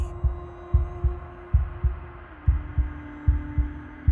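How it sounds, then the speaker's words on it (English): Wooden, fleshy heart beating in Slay the Princess with an unbroken rhythm: about ten deep, thudding double beats in steady succession over a low, constant hum, with no voices. "a wooden and fleshy heart beating with an unbroken rhythm"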